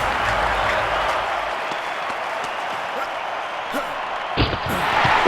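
A stadium crowd applauds a jump at the London 2012 Olympics with steady, broad clapping that holds throughout, with a few sharp thuds near the end.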